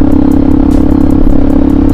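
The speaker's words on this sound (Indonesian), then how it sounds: "ini knalpot gua nih, knalpot racing yang kena rajianya" A Scorpio supermoto motorcycle with a racing exhaust runs loud and close, a steady throbbing engine drone holding throughout without any spoken voice.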